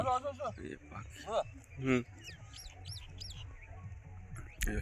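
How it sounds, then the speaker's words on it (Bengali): Birds calling and chirping at a riverside wetland char at Purbasthali, several short tweeting calls scattered over a few seconds, moderately close, with voices murmuring faintly underneath. "এখানে প্রচুর পাখি দেখতে পাওয়া যায়।"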